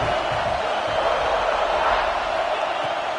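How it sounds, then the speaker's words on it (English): Stadium crowd at a football game roaring steadily behind the defense during a red-zone stand, a dense, sustained wall of cheering with no clear break. "The crowd getting behind this defense as they try to get a stop in the red zone."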